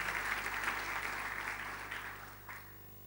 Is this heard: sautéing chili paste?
no